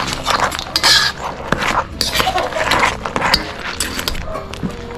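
A crab and shrimp dish being stirred in a pot: irregular metallic scrapes and clinks of a utensil against the pot, close and fairly loud, repeating in uneven strokes over several seconds.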